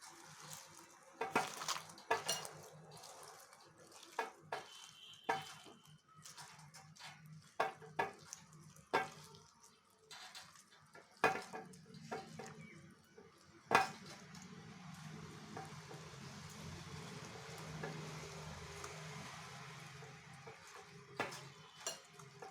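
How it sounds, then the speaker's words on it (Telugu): Soya pakoda batter is stirred in a bowl with a spoon, giving quiet, irregular clinks and scrapes against the bowl's sides, followed by a softer continuous mixing rustle toward the end. "ఇప్పుడు బాగా కలపండి."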